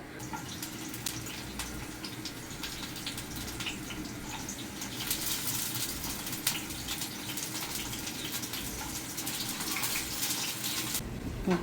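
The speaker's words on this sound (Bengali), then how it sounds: "এদিক দিয়া পানি আনা হইতেছে" Water runs steadily from a tap or pipe as it is fetched, a continuous close gushing splash that grows slightly louder partway through.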